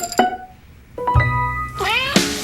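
A cat meows in a Meow Mix cat food TV commercial, two or three clear, close meows in quick succession with a soft thud between them.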